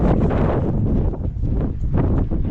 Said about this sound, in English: A little bit chilly, the wind picked up.